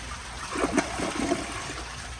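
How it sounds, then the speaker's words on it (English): A 2002 Kohler Santa Rosa Ingenium toilet flushing on a half-full tank gives a short, fairly quiet rush and gurgle of water, rising then fading over about a second. "let's flush it with the half full tank and see what it does."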